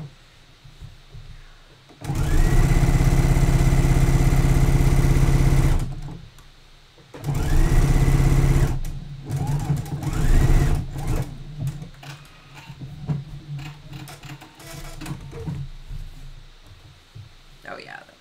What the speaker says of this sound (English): Top stitching makes the seam extra secure too.